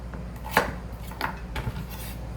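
A knife cuts thick slices of radish on a board, giving three or four distinct soft chopping knocks spaced irregularly over a quiet background hum, close and with no voices.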